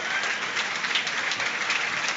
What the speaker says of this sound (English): John Jules is applauded off, and rightly so